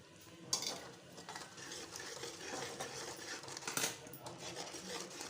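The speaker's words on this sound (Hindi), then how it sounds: "इनको अच्छे से हमने भून लेना है थोड़ी सी देर, मसाले को" Spices and onions roasting for a chicken chana masala, stirred steadily in a pan with a low sizzle and repeated scraping strokes of a spoon against metal, a few sharper clinks standing out, no voices.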